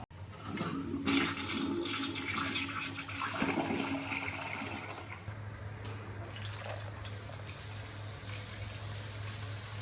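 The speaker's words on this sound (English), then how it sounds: "Oh yes, hot shower, finally." Hot shower running in a guesthouse bathroom in Chiang Dao, Thailand, water gushing and splashing steadily, fairly faint and continuous throughout.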